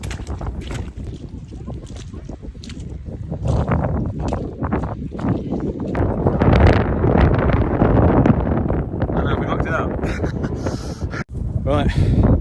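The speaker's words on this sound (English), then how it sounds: "the wind's crazy" Strong, gusty wind on the Mam Tor hilltop buffets the microphone in a loud, continuous roar that swells and eases, with brief rustles throughout.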